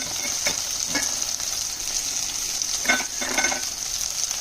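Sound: brinjal frying and being stirred in a pan

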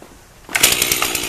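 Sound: chainsaw running

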